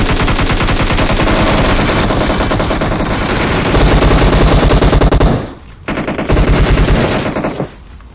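Automatic gunfire in the mobile shooter Battlegrounds Mobile India, loud sustained rapid bursts of rattling shots with brief pauses near the end, no talk.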